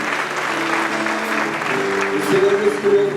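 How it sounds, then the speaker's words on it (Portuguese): A congregation applauds during a church celebration service, steady, full clapping from many people, with sustained musical or sung tones running underneath and growing slightly louder toward the end. "Vamos aplaudir? Ele merece."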